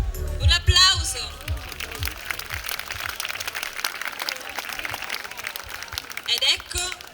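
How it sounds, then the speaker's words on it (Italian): Audience applause at a 2019 bridal fashion show in Ficarolo, a steady spread of clapping filling the room for several seconds, with a presenter's voice heard over it near the start and again at the end. "Un applauso"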